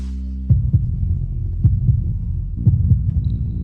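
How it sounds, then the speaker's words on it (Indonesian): Heartbeat sound effect thumping in steady lub-dub pairs, loud and close, repeating about once a second over a low hum, with no voices. "jantungmu udah deg-degan"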